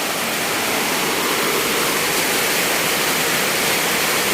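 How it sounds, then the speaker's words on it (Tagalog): Overflowing floodwater from heavy rain rushes into a house in a loud, constant roar, a dense unbroken wash of sound with no pauses or voices. "yung tubig na umapaw na dito, pumasok na dito sa bahay"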